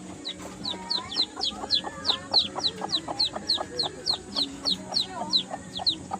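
Mestiza junglefowl hen clucking repeatedly in a steady rhythm, with her chicks peeping and other fowl noises around, close by.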